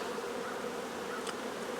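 Honeybees hum in a steady, dense buzz close by while frames are moved during a nucleus transfer into a hive body, with one brief brighter whine partway through.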